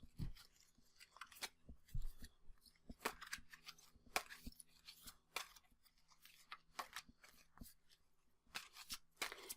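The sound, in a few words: shuffling tarot cards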